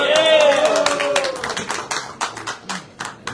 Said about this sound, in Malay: Tepuk tangan sikit lah.